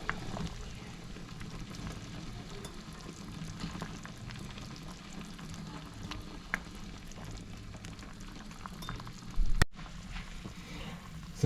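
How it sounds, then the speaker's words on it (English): Pork belly blanching in a pot of boiling water, a steady low bubbling and rolling boil that continues throughout, with a brief clatter near the end and no talking. "So they've been blanching for 5 minutes."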